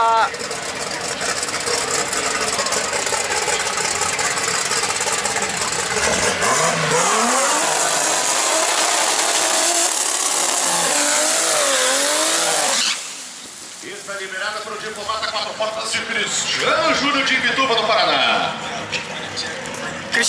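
Rear-turbo race car at Velopark raceway, its engine roaring and revving loudly and continuously with a brief dip midway, close and dominant throughout.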